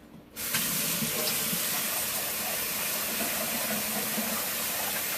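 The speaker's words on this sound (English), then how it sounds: "We're gonna go ahead and wash the rice first." Tap water pours steadily into a saucepan as rice is washed, a close, continuous rushing hiss that starts suddenly and runs evenly throughout.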